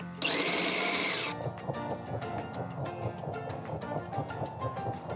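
A food processor blending berries whirs loudly for about a second, then cuts off, leaving clattering and rattling as the motor winds down.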